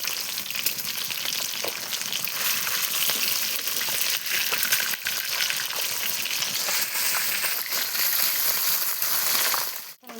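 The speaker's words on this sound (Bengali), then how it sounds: "লাল লাল করে কাকিমা সব মাছগুলো ভাজে নিচ্ছে" Fish fry in oil in a home kitchen, making a continuous loud crackling sizzle that stays close and steady throughout, with a brief clatter near the end.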